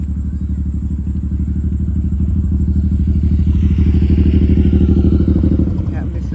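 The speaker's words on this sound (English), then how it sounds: "Biker going, boom, boom. Motorbike going, doing that thing." A motorbike engine rumbles low and steady nearby at an outdoor festival on a sunny day, its throaty drone swelling slightly as it passes while people talk in the background.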